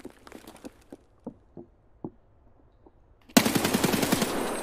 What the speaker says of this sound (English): Laser gunshot.